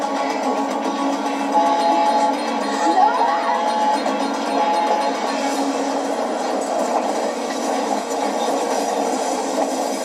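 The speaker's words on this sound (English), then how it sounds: "Jack, you're headed right towards another train." A steady rumbling rail noise with clattering wheels and a faint high squeal, continuous throughout, with voices murmuring in the background.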